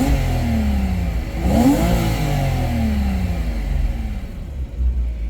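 A 2011 Porsche Boxster's 2.9-liter flat-six engine, at 100,000 miles, revs up and settles into a steady, throaty rumble, rising and falling in pitch, close and loud with no talking.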